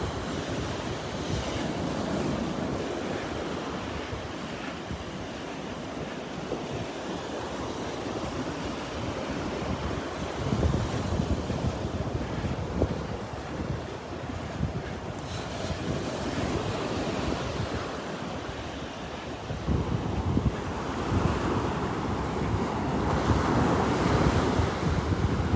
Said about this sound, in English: Beautiful beach day.